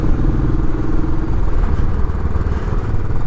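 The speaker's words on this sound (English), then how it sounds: "Classic 500, it'll pull up this hill no problem." A Royal Enfield Classic 500 single-cylinder motorcycle ridden uphill in fourth gear, its low steady engine thump loud and close throughout with no talk.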